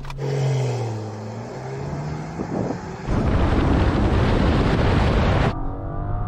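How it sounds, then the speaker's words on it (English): Rolls-Royce Dawn convertible launching from a standstill: a low engine hum gives way to a loud surging roar mixed with rushing wind, then cuts back abruptly to a quieter cruise. "So I'm going to launch it now. Come on, hold on the brake."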